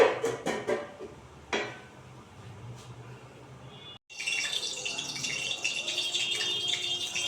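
Ground garam masala paste of cardamom, cinnamon and black pepper goes into a pan with a few sharp metallic clanks and rattles, then after a short pause a steady sizzling hiss rises under a lid.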